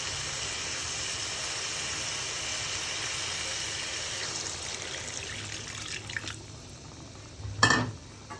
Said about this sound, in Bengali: এবার ঝোলের পানি দিয়ে দিব।